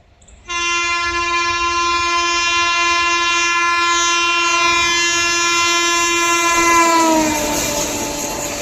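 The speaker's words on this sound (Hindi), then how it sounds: "कोई ट्रेन स्किप मारने वाली है टावर जंक्शन को, सामने आ चुकी है भाई।" Train horn blaring long and loud at Tundla junction as a train approaches and passes, one sustained rich blast that bends downward at the end over rumbling rail noise, with no talking.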